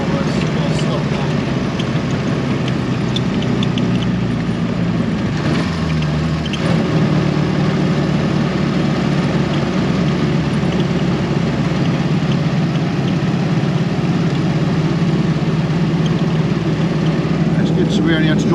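A car engine pulls steadily in fourth gear on a drive, a continuous low hum under cabin road noise throughout, with people talking over it.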